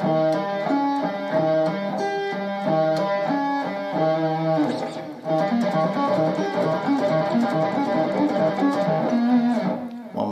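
Hybrid-picked dominant 7 arpeggio lick on guitar, played slowly with clear successive plucked notes ringing over a steady sustained tone, loud and close with no talking.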